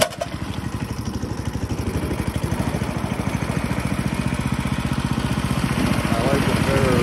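Twister clone short-surface drive boat motor with a two-blade 7-inch propeller runs steadily close by, pushing a boat loaded with about 800 pounds. The engine throbs in a fast, even pulse and builds slightly toward the end.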